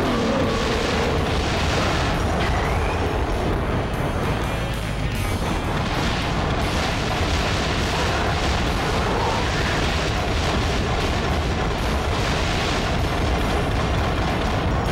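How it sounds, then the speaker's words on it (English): A loud, sustained explosion in the Gungrave: Overdose action game, a dense booming roar with rumbling blasts that fills the whole stretch without pause. "If you don't do it soon, you'll get caught up in the explosion."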